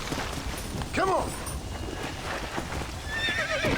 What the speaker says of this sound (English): Why is the horse in the graveyard?